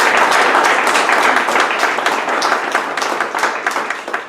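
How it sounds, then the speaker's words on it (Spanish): A crowd applauds steadily, dense clapping filling the whole stretch at a loud, even level before thinning slightly toward the end. "Y este aplauso para ti"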